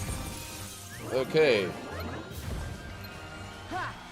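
A glass floor shatters in the Kingdom Hearts video game, a sharp crash with bright splintering scattered over a few seconds, heard beside a person speaking briefly.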